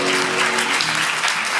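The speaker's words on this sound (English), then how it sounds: "just clap your hands and give yourself a" An audience at a church conference claps together in a dense, steady wash of applause that fills the whole moment, with faint voices mixed in underneath.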